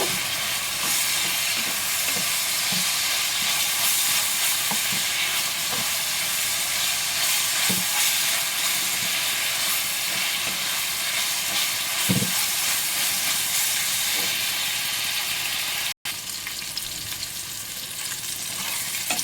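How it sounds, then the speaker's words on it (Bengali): Spices and mixed vegetables frying in a pan for pasta, a loud continuous sizzle and hiss with occasional stirring clatters, steady throughout with no voices. "এবারে এগুলো সমস্ত ভালো করে ভাজা ভাজা করব"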